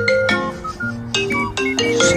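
A mobile phone ringtone plays a bright electronic melody of repeated chiming notes, loud and close, with no talking over it.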